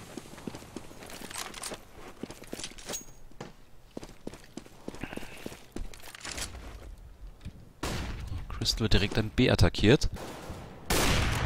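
Rapid bursts of Counter-Strike gunfire on de_dust2 crack out, with sharp repeated shots and volleys, while someone talks over the action.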